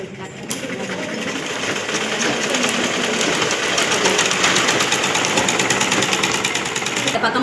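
A sewing machine stitches a rolled edge on fabric with a continuous, fast, even mechanical whirr, heard up close with no break.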